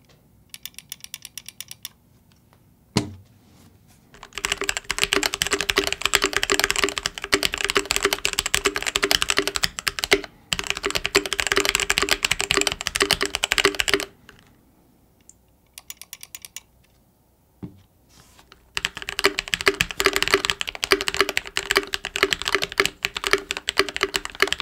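Typing on an Azio Cascade mechanical keyboard with added foam and silicone layers, close and steady in several bursts of rapid keystrokes broken by short pauses, with no voices.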